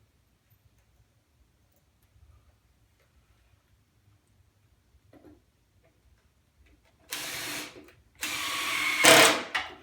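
Power drill driving screws into crisscrossed legs of a 4x8 model railroad benchwork table, two short whirring bursts near the end after a long quiet stretch with a brief spoken remark.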